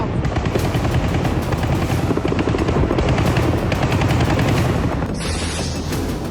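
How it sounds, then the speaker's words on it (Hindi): A Ka-52 attack helicopter's 30 mm cannon fires at a drone in rapid, loud bursts over the steady thump of its rotors, the firing continuing almost throughout before easing near the end. "एक यूक्रेनी ड्रोन को Ka-52 अटैक हेलीकॉप्टर की 30 mm तोप से मार गिराया गया।"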